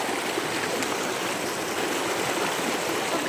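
Flowing stream water on an outdoor adventure, a steady close broadband rush and burble throughout, with no voices.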